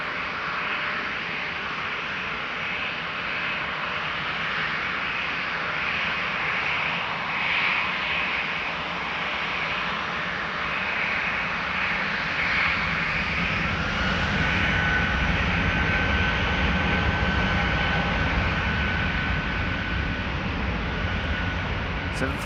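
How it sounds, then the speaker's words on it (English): A KLM Boeing 737-900 in SkyTeam livery departs Amsterdam Schiphol, its jet engines a steady, broad roar that builds slightly toward the end, with talk heard faintly underneath. "including the 737-900 from KLM in the SkyTeam livery"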